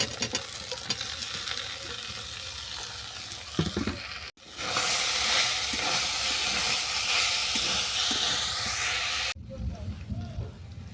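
Ridge gourd fries in a pan with chili powder, salt and garam masala, crackling and sizzling up close. A loud, steady hiss takes over for several seconds in the middle before the lighter sizzle returns.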